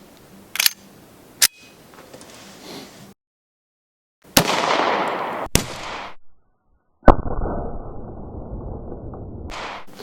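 Barnes TAC-XPD .45 ACP pistol rounds fired into bare ballistic gel outdoors, several sharp gunshot cracks with brief quiet gaps between them and a louder shot toward the end, no talk.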